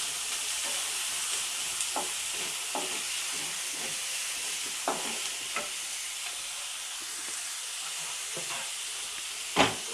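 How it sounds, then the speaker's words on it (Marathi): Chopped onions fry in hot oil for a goat brain fry dish, giving a soft, continuous sizzling hiss broken by occasional faint ticks and stirring clinks. "कांदा टाकून घेते आणि कांदा बी ब्राऊन कलरचा लालसर होईपर्यंत तळून घ्यायचं।"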